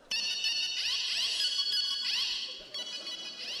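Phone ringtone for an incoming call, a bright, repeating electronic melody that rings loudly and continuously for several seconds with no talking over it.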